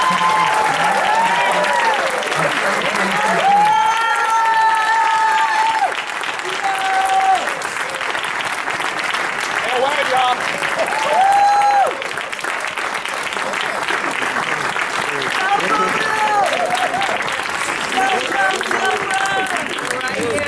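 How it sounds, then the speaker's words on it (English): Sustained applause from a large crowd at a graduation ceremony, steady and loud throughout, with scattered cheers and voices calling out over the clapping. "Everyone, let's please give a round of applause to"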